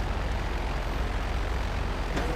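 A fixed-wing airplane drones overhead in the video game GTA Online, a steady engine hum that holds evenly throughout without any talk.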